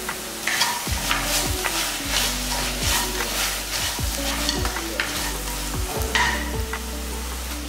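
Green chili and coriander leaves sauté for a vegetable kurma, a spoon scraping and stirring the pan in an irregular rhythm over a steady, close sizzle with no talk.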